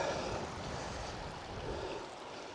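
The River Meig in the Highland hills between Strathconon and Glen Orrin, a broad continuous rush of flowing water with some wind, steady and fairly faint, no voices.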